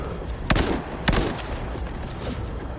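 Gunfire in Cyberpunk 2077, a dense fusillade of automatic shots with two sharp, loud bursts standing out above a continuous clatter of weapons fire in a combat fight.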